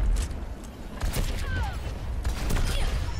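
Pharah's rocket launcher firing in the game Overwatch, with several bursts of blasts and booms loud and close over a dense bed of game noise and effects.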